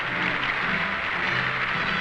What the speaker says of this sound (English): Stalin and company applaud the Latvian communist delegates.